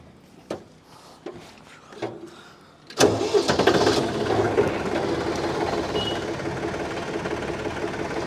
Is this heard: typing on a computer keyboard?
no